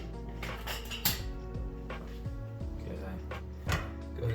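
Food is stirred in oil in a pan over medium heat while cooking for a bacon jalapeño burger. Soft metallic clinks and scrapes of the utensil repeat over a low, steady background.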